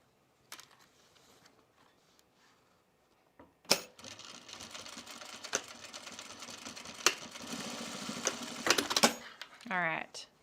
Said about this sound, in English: Let's sew it from the right side.